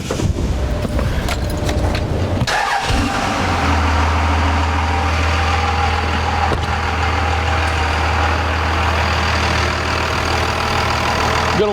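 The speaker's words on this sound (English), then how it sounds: "Gonna let the truck run for just a little while" A 2000-2002 Dodge Cummins diesel pickup truck engine starts with a rough crank after a fuel filter change, then settles into a steady low rumbling idle that continues close by.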